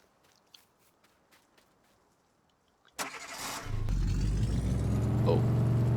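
An old Hi Boy farm vehicle engine cranks and catches after a few seconds of quiet footsteps, then settles into a loud, steady idle close by.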